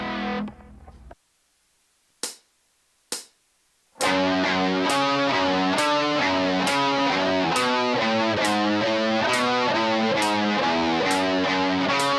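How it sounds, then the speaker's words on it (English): Distorted electric guitar plays the main riff of a song at a slow practice tempo: a few isolated picked hits with silence between, then a steady chugging run of evenly spaced, loud palm-muted notes. "Here's our main riff with a slow practice tempo."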